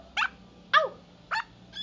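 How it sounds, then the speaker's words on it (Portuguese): A small dog gives three sharp, separate barks spaced about half a second apart, close and clear, with a fourth bark starting at the very end against a quiet background. "O cachorro, o cachorro. Au, au, au."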